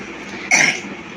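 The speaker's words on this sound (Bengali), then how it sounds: "আবার তোমার কাশিও আছে" A child gives a single short, sharp cough up close, a brief burst after a moment of quiet room tone.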